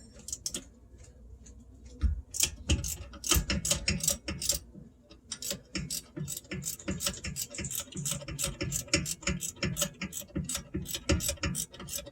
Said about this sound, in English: These are the caliper again. Mounting bolts. I'm not taking off the caliper from the bracket. So again, I'm just using an open end wrench